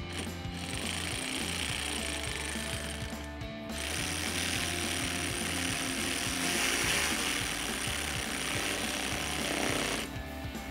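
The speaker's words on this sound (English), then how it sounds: "Go ahead and thread each one in, then with a 10 millimeter socket," A ratchet with a 10 mm socket drives a wheel well bolt on a Jeep Gladiator JT, giving rapid, continuous mechanical clicking, loud and close, with two brief pauses and no talk.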